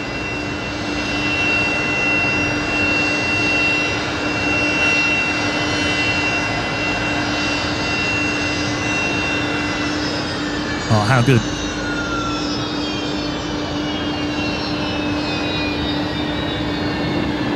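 Rolls-Royce engines on a Qatar Airways jet at Brisbane Airport spool down after shutdown. A loud, steady turbine whine holds and slowly drops in pitch, with a brief spoken remark and a short thump partway through.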